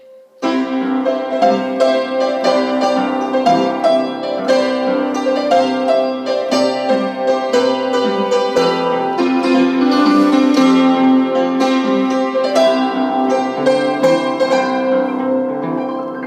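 A sequence of bright, sustained chords played on a keyboard instrument, changing steadily over several seconds with no voices.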